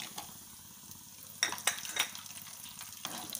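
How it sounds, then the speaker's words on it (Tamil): Garlic with cumin and pepper fries in hot oil for a Coimbatore fish curry, a quiet sizzle beneath a few clinking, scraping stirs of a spoon in the pan, with a cluster of strokes in the middle. "பூண்டு பாதி அளவுக்கு வதங்கட்டும்"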